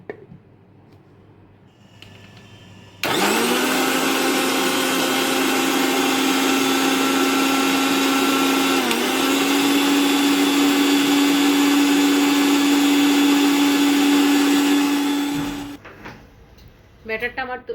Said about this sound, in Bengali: এখন আমি মিক্সিতে সবগুলো একসাথে পেস্ট করে নিচ্ছি।